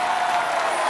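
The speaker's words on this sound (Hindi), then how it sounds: "जोरदार तालियां" Audience applause at a Bollywood awards event, a brief, dense, even wash of clapping with faint crowd noise, steady and fairly loud.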